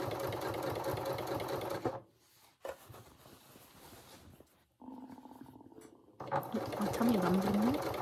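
A sewing machine stitches around the hemline of a dress, running in loud steady bursts with a short pause in the middle, close and alone with no talk.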